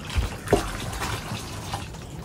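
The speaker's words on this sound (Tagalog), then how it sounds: "Dagdagan natin yung tubig par." Water splashes and pours as a loft's bathing water is topped up for the animals inside, in uneven bursts with a few louder splashes against steady running water, close by and with no talking.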